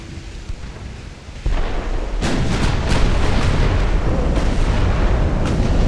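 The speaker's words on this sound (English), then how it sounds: "I think I'm going to fire at this guy" Warship main guns firing in the naval battle game Ultimate Admiral: Dreadnoughts, heavy booming salvos with rolling rumble, one blast then a sustained loud barrage of overlapping shots.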